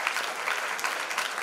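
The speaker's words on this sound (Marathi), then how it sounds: "मी न सांगता सर्वांनी टाळ्या वाजवल्यात" Audience clapping at a felicitation ceremony in an auditorium for a returning alumnus, with students and teachers present; steady, dense applause at moderate distance, fairly quiet, with no talking over it.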